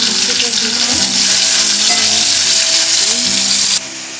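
Vegetables for a Bengali shukto fry in hot oil in a pan, giving a steady, loud broadband sizzle with faint clinks and stirring. The sizzle drops abruptly near the end.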